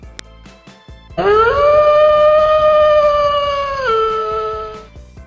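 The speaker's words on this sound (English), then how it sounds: "Wolf." A wolf gives one long, loud howl that rises, holds steady for a few seconds, then drops to a lower pitch before fading, heard alone against a quiet background.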